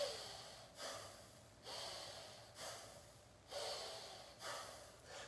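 Belly breathing during a yoga flow, with slow rhythmic inhales and exhales close to the microphone, about six breath sounds evenly spaced and audible without talking.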